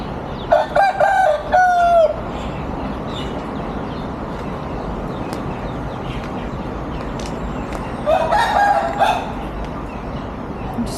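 Roosters in a poor railway-side settlement in Thailand crow twice, once near the start and again around eight seconds, with chickens clucking faintly between calls over steady outdoor background noise.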